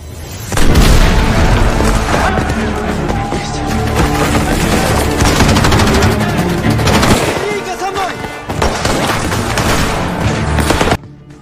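War film battle scene with cadets' artillery and a Soviet–Nazi clash against Panzer tanks: loud, dense booms and bursts of gunfire rolling almost continuously, with heavy blasts throughout and a brief lull near the end.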